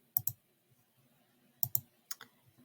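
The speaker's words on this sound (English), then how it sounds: "I click OK" Sharp computer mouse clicks come close and clear in quick pairs, three double clicks spread across an otherwise quiet desk with faint faint handling noise between.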